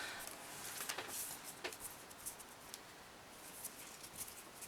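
Astrology oracle cards are shuffled by hand in a quiet room, soft papery riffles and light slaps coming in irregular bursts, faint and close.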